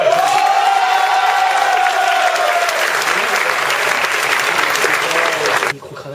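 Loud, sustained applause from an audience at a student talent show, continuous dense clapping with some cheering that cuts off abruptly near the end.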